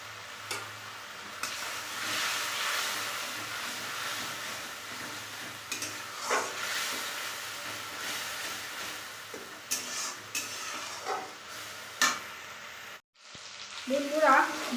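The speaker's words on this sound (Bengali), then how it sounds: "বন্ধুরা, মশলা তো আমার মোটামুটি কষা হয়ে গেছে" Spice masala of green chili paste, cumin and turmeric frying and being stirred in a pan for a chicken soup, giving a steady close sizzle with scraping stir strokes throughout and a brief louder clatter near the end.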